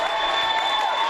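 A loud basketball crowd fills the gym late in a close, six-point game, making a dense, continuous roar of voices and cheering.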